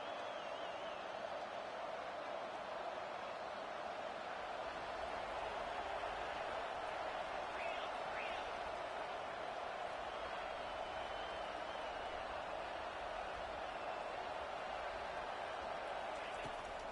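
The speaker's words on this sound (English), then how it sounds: "Listen to the crowd energy here in the early going." A steady, distant roar of a stadium crowd fills the background beneath a commentator talking.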